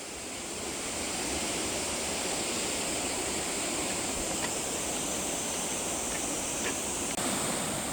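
A mountain valley stream rushes along the Daewonsa valley trail on Jirisan, its water noise a steady, dense wash that holds constant and fairly close for the whole stretch, with no voices.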